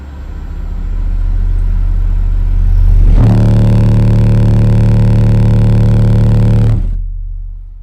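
Car engine held at a steady 2,000 RPM, a constant close, loud low drone; partway through, a strong humming tone rises over it for a few seconds, then fades back to the engine alone.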